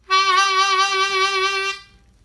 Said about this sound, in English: and this is a throat vibrato